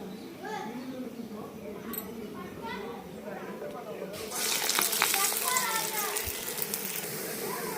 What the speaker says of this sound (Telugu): ఇవి కాలుతున్నాయి.